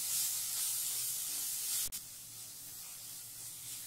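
Tomato, onion and spices frying in a pan for paneer Maggi, giving a steady close broadband sizzle that runs throughout with one brief dropout near the middle; no talking.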